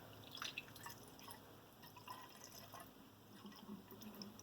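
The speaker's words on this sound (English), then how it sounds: "I can hear it gurgling, and I'm watching that hole on top of the radiator." Coolant being poured into the radiator of a HiSUN Strike 250 during a flush, a faint soft trickle and dripping gurgle that runs steadily and quietly throughout.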